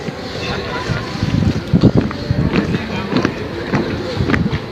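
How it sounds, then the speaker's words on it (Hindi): Cold wind blows steadily across the microphone, a continuous rushing noise with gusty swells and thumps throughout, and faint voices can be heard in the background. "ठंडी हवा चल रही है।"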